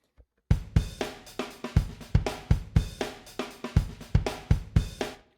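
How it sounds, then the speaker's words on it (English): Funky breakbeat drum loop from Spitfire ALJ drums, a tight groove of punchy kicks, crisp snares and hi-hats played loud and close, repeating steadily for about five seconds with no voices. "These are the Funky Breaks loops, which sound like this."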